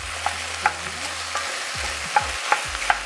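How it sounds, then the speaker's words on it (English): Beef mince browns in a hot pot for a one-pot cheese penne bolognese, giving a steady soft sizzle while a spoon scrapes and knocks against the pot with a few light clicks. "And then you just break your mince up as it browns."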